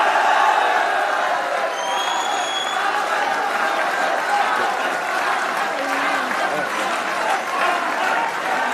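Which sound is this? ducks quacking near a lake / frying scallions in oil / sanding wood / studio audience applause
studio audience applause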